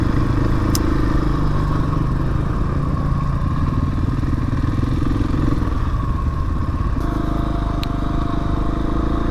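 Motorbikes ride along a mountain trail heading out to a lake. The engines drone loud and steady throughout, with slight shifts in pitch, and no voices are heard.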